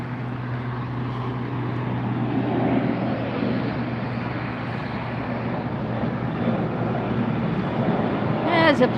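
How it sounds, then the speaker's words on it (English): Propeller or jet aircraft near LAX airport droning steadily throughout, a broad continuous rumble with a low hum, fairly loud and constant with wind-like noise, heard outdoors during plane spotting. "There's a plane up there somewhere."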